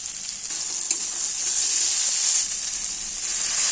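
Potato pieces and green chillies fry in a pan with garam masala for a soybean dalna, giving a steady bright hiss and sizzle with a faint stir click.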